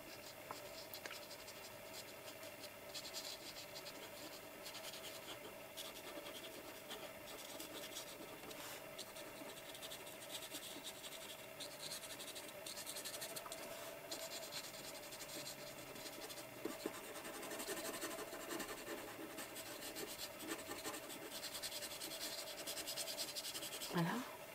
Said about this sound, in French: je vais utiliser le violet et je vais carrément colorier